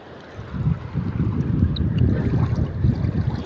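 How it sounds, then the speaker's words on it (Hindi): Deep floodwater rushes loudly through a village in a dense, steady roar of churning water with no talking. "तेज सैलाब आ रहा है।"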